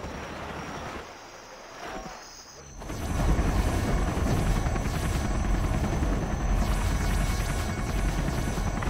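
A Combat Chinook helicopter in Command & Conquer: Generals Zero Hour swells into a loud, dense, steady rotor roar after a quieter opening, filling the scene close up without speech.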